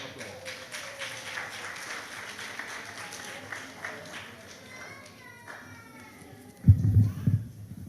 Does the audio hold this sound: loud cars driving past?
no